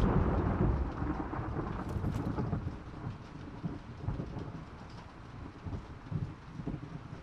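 Steady heavy rain with rolling thunder in the post-apocalyptic video game The Last of Us Part II, a dense continuous downpour with gusty wind and low rumbles building throughout.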